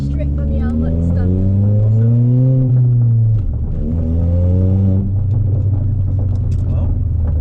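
Stage 3 tuned Ford Fiesta ST180 on a race circuit, engine loudly revving with rising and falling pitch sweeps, close and continuous, dropping after a gear change then climbing again, with people talking over it.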